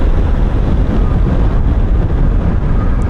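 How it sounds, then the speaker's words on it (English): A 2024 Suzuki V-Strom 800 RE motorcycle slowing under braking on a road, a steady loud rush of engine and wind noise with no distinct squeal and no voices. "So what we'll do, we'll just give it a little bit of a brake test"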